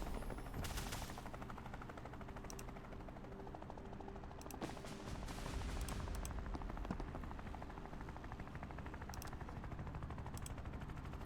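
Gunfire in the Tactical Breach Wizards video game comes as scattered sharp bursts and cracks over a busy low rumble, fairly faint and irregular across the stretch.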